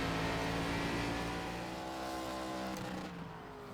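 Stock car engine from the iRacing ARCA car lapping Martinsville, a loud steady drone with harmonic whine that holds through the lap, then drops in pitch and eases off near the end, with no talk over it.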